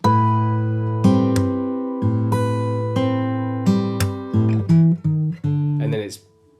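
Guitar phrase, plucked notes ringing over a held low note, a brisk run of picked notes toward the end before fading to silence; close and clear with no talking.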